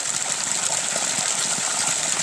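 Clear spring water gushes steadily out of a mountainside, a loud, constant rushing close by with no break.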